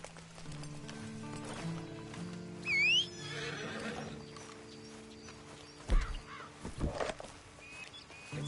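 A horse in the Red Dead Redemption 2 video game gives a loud, rising whinny near the middle, with clip-clop hoofbeats and a steady musical drone underneath and a few sharper knocks toward the end.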